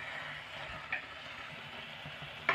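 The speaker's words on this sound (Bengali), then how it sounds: "1 থেকে 2 মিনিট এইভাবে নাড়তে থাকবো।" Carrot halwa with cashews and raisins is stirred in a pan over a medium gas flame, a soft continuous sizzle broken by a few light scrapes of the spoon, quiet and without talk.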